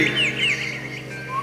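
Birds chirp with a few high, sweeping calls over a steady low background hum, moderately loud.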